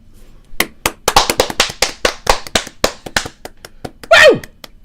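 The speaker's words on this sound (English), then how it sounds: "Let's clap it in." A small group claps their hands in a steady, slightly uneven rhythm, each sharp clap distinct and close, before an excited voice cheers at the end.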